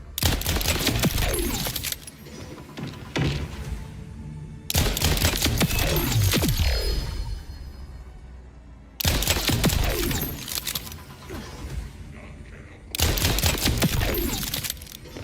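Rapid bursts of automatic gunfire from the glitched Songbird weapon in Borderlands 4, loud and close, coming in long sustained volleys broken by short pauses, with no talking.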